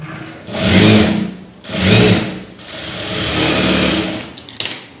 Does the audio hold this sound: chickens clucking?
no